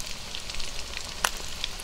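Rice with chicken and salted fish frying over high heat in a pan gives a close, continuous crackling sizzle with a few sharper pops.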